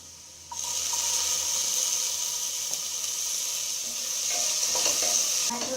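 Chopped tomatoes frying in a pan with onions for egg biryani, a steady loud sizzle running throughout with a few soft stirring knocks near the end.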